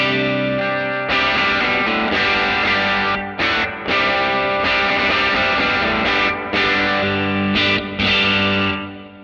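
Electric guitar played through an amp modeller set on the edge of breakup, loud sustained chords with slight grit and a few brief pauses between strums.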